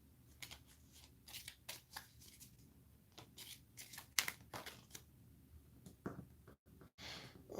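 Playing cards for the Legends of Novus tabletop game are shuffled in a quiet room, giving a series of soft, quick riffling and flicking bursts spread across several seconds with a few sharper snaps, no talking over them.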